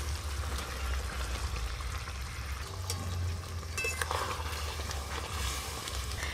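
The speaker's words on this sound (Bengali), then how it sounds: "ভেজে রাখা মাছগুলো এবার দিয়ে দেব।" Fried rohu fish pieces go into a simmering tomato gravy for a village-style kalia, with a soft steady bubbling and sizzle and a few faint clinks of a utensil against the pan.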